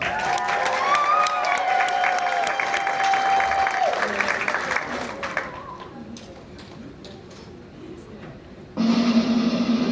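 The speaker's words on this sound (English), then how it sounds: "Let's set them off with one more big round of applause" A crowd claps steadily at a mermaid show at Weeki Wachee Springs State Park while music plays, the applause thinning midway before a new musical passage starts abruptly near the end.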